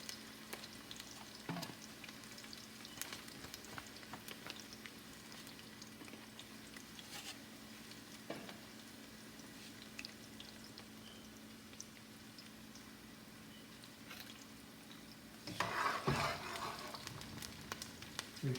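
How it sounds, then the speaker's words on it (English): Vegetables sautéing in a pan over medium heat for a vegetarian Caribbean curry, giving a steady soft sizzle throughout with occasional stirring clicks and a louder burst of crackle near the end. "I'm going to let that saute for at least"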